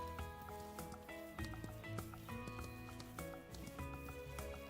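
Horses in the Ranch of Rivershine video game clop and move about in a steady patter of hooves, set against a bed of layered game music that dominates the mix.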